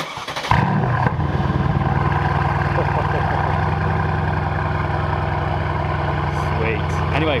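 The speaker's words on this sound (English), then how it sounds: "do you want to start it up so we can hear the exhaust quickly?" A 624bhp Mercedes C63 AMG with a modified exhaust cranks and fires up, then settles into a deep, steady rumbling idle from the exhaust, close by.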